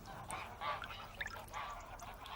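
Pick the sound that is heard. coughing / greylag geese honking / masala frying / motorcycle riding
greylag geese honking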